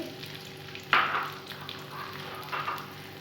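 Onions dropped into hot ghee in a karahi, hitting with a sudden loud hiss, then a steady sizzle with soft stirring scrapes, close and without talk.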